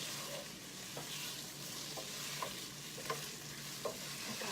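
Bacon fries with onion and garlic in a steady close sizzle, broken by occasional soft stirring scrapes, with no talking.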